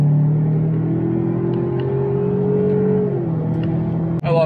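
A four-cylinder truck engine holds a steady droning rev and then eases off, with a faint rattle near the end.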